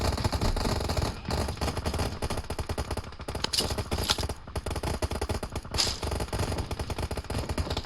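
Continuous rapid gunfire with dense automatic bursts and sharp shots, loud and unbroken for several seconds, like game combat audio.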